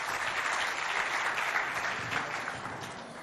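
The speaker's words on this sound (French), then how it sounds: "On les applaudit, s'il vous plaît." A jury-panel audience at a school quiz contest between CEG de Belaba and Franco-Anglais in Moundou claps in a steady, even wash that fades slightly toward the end.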